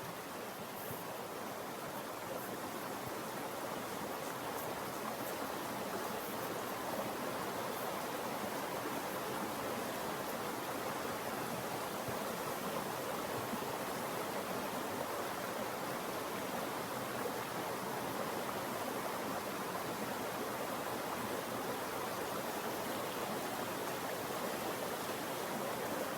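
Chittenango Creek flowing steadily beside an outdoor shave, a constant broadband rush of moving water that stays even and fairly close throughout, with no voices over it.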